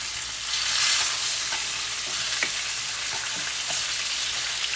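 Mackerel sizzles steadily in a frying pan, a continuous close hiss with faint crackles and a few soft pops throughout, no voices.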